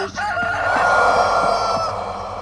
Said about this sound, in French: Cocorico.